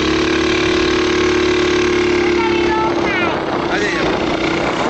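A small ATV 110 engine running loud and close with a continuous buzzing drone that holds steady, as voices talk over it.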